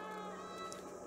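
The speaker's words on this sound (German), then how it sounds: "Drücke B zum Miauen" A cat meows in the video game Stray, a single close, clear meow that carries tonal harmonics, set over a steady bed of game ambience.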